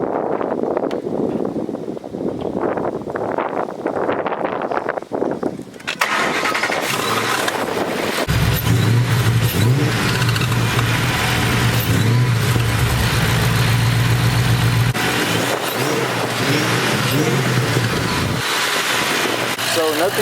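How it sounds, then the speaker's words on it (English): A Ford Mustang engine cranks and starts after someone talks, then idles loudly and is revved several times, the deep engine roar filling the space close by with a few distinct rises in pitch. "Now I'm gonna turn the car on and see if everything is working proper. I'm just gonna give it a couple revs and see."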